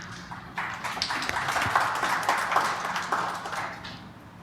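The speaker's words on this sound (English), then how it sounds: "would like to acknowledge them with the big round of applause" Small audience at a tech talk on DPDK drivers giving a modest round of applause, individual claps audible and building slightly before thinning out.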